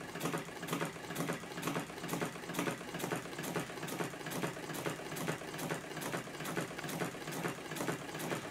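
A small homemade radial four-piston magnet engine runs steadily under electronic current control, giving a fast, even mechanical clatter of rapid ticking strokes close up, with no talking.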